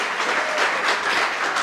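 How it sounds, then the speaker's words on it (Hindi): An audience applauds at a police recruitment felicitation event, a thick, continuous roar of many hands clapping together, loud and even from start to finish with no speech over it. "एक बार करियर भी के लिए तालियां हो जाएं और तालियां भी जोरदार होनी चाहिए"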